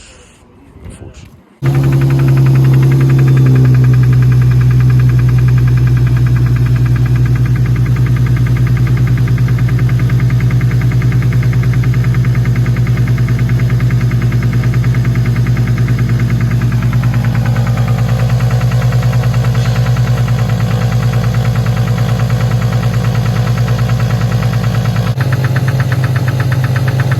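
A damaged Infiniti G37 coupe engine starts and runs loud and close with a steady, rough rumble and a persistent rhythmic knocking throughout.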